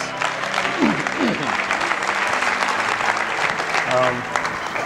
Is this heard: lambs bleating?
no